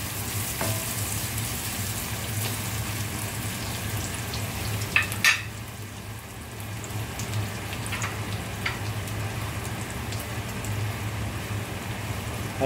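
Shrimp paste and crushed ginger sauté in a pan, giving a steady, dense frying sizzle throughout, broken by a couple of sharp clanks from a utensil midway.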